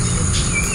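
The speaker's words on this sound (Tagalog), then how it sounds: "ibon." Birds calling over rice paddies and mountains in rural La Union countryside, a thin high call rising briefly out of a steady insect hum and low rumble, fairly distant and faint.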